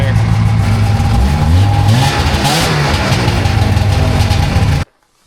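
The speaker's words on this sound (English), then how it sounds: "Now I'm letting it warm up. It idles pretty well." A 1998 Ski-Doo 583 Deluxe snowmobile engine idles loudly and close with a steady rumble while warming up, then cuts off abruptly near the end.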